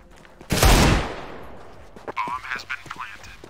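A single loud, close gunshot blast in a video game, its ring fading over half a second, followed by quieter clicks and short game sounds.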